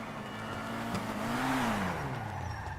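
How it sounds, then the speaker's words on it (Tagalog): A car engine passes nearby, its hum rising in pitch and then easing off as it goes by, fairly quiet under a steady wash of background noise. "Meron pala sasakyan doon eh."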